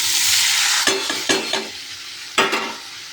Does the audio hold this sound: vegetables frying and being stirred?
yes